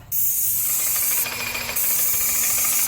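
An airless spray gun hisses continuously as it sprays paint onto cabinet doors: a close, harsh, steady spray that dips briefly partway through, with no talking.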